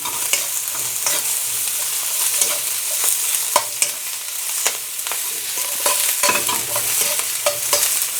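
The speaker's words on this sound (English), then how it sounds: "Now I can put in everything else, the broccoli and the onions." Long stem broccoli and onions stir-frying with sauce in a hot pan: loud continuous sizzling broken by frequent sharp scrapes and clacks of a utensil tossing the vegetables.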